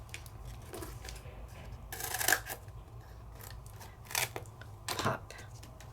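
Scissors snip through paper during papercraft card-making, three short crisp cuts spaced a couple of seconds apart over a faint low background hum.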